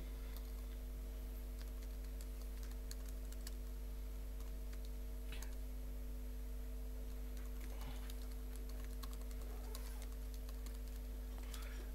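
Keyboard typing of Python code at a computer, soft scattered keystrokes at low level over a steady electrical hum, faint and somewhat irregular throughout with no talking.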